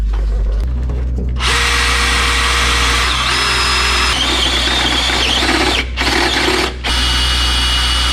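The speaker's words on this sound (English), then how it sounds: "to drill that hole" A power drill whines loudly and steadily for several seconds, boring a pilot hole in a steel chassis bracket on a Sprinter van, with brief pauses in the grinding near the end.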